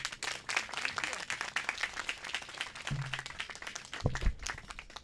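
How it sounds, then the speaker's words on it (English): Audience applause at an outdoor ribbon-cutting ceremony for a park and creek project, a faint, steady patter of many hands clapping, with a few voices and thumps near the end. "Will everyone please give President Preckwinkle a round of applause?"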